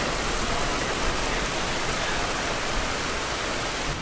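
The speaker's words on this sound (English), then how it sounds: "Is that rain? Yeah." Heavy rain pours down steadily in a dense, unbroken hiss, loud and close, with no voices over it.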